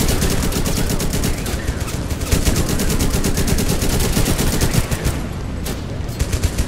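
Sustained automatic fire from an assault gun in the video game Total Conflict: Resistance, rapid loud bursts rattling continuously throughout with no pauses and no talking.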